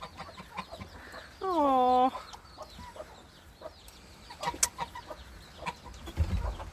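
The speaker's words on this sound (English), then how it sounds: "Oh, rocky, bedraggled looking roosters." Rain-soaked, bedraggled roosters cluck and call close by during a wet, windy afternoon, with one loud drawn-out squawk standing out amid softer intermittent clucks and a brief spoken exclamation.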